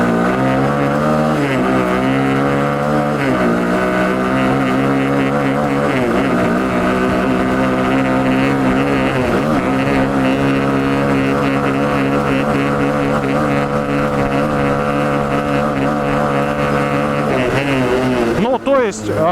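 The engine of a ZiD Barkhan, a giant Russian all-terrain trike, pulls away in first gear with a loud, steady low drone whose pitch rises and wavers as it moves off, while someone talks over it.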